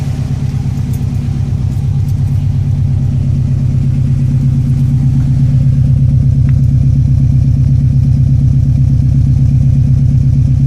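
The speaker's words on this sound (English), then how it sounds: "While the exhaust tip is only slightly larger than factory, it does have a nice sound." A 2006 Subaru STI idles steadily through a full titanium 3-inch turboback exhaust, giving a loud, close, continuous low rumble with an even pulsing throb and no talk over it.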